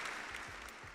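A brief burst of canned applause plays during an NBA playoff talk livestream, a soft, dense patter of clapping that lasts under a second.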